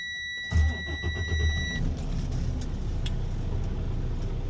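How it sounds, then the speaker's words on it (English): A truck engine starts up in the cab with the brakes applied and the truck in neutral, beginning with a short crank and a loud catch, then settling into a steady idle while warning tones beep briefly. "And start the truck."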